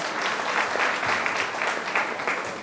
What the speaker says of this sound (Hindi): इसके लिए एक बार और जोरदार ताली हो जाए।